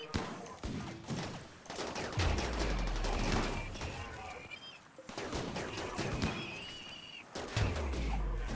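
Rapid bursts of gunfire from combat mechs in the RimWorld video game rattle in dense volleys, with two heavy low impacts standing out, while a voice talks over the action.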